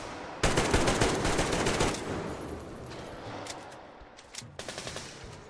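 Rapid automatic gunfire from an Xbox shooter game, loud, sustained bursts that taper off, then a few short shots near the end.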